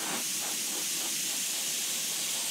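Continuous spray paint hiss from an aerosol can coating an FMS A-10 EDF RC jet model, close and steady with faint pulsing, no talking.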